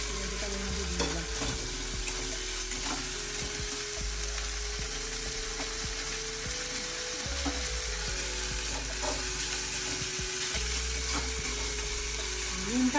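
Tomato dropped into ginger paste fries in a pan with a steady close sizzle, overlaid by repeated scraping and clinking of a spoon stirring throughout.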